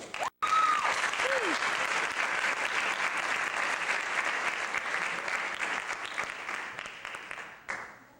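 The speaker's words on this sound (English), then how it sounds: "I give him a round of applause for his efforts in helping turn this team around" An audience at a school basketball awards event gives a long round of applause, steady and fairly loud crowd clapping that sustains for about seven seconds before tapering off, with brief voices near the start.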